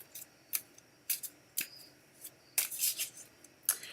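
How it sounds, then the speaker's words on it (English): A deck of cards being shuffled: a series of short, crisp riffling bursts at roughly half-second intervals, fairly quiet and close, with no talking. "I'm going to start shuffling"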